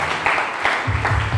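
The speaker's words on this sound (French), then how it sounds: "Applaudir le Seigneur." Congregation clapping together in a church service, a steady burst of group applause with rhythmic accents, fairly close and loud, with no talking over it.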